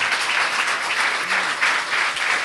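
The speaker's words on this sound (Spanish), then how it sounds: "Un aplauso al Señor por eso." A church congregation applauds at a question-and-answer forum, steady dense clapping filling a short stretch with a faint voice briefly underneath.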